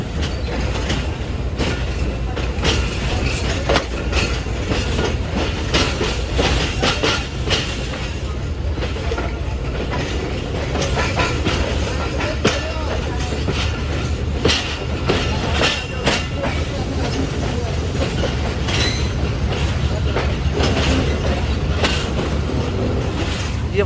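Khushal Khan Khattak Express passenger train rolling out of Karachi, a steady loud rumble of wheels on rail with rhythmic clickety-clack over joints and occasional metallic squeal throughout.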